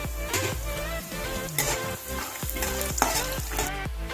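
Peanuts, lentils, cumin and mustard seeds frying in a pan give a steady close sizzle, broken by stirring scrapes and light clinks against the pan.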